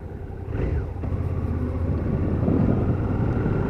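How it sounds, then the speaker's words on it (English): Suzuki SV650 motorcycle on a test ride after a tyre change, its engine a steady, loud low drone under strong wind rush throughout. "Lovely sounding bike. Now these are great bikes, the SVs."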